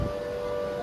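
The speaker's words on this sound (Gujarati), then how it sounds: "હા સાયરન વાગ્યું." Civil defense siren of a Surat mock drill, a brief steady sustained tone held at constant pitch over low outdoor background noise.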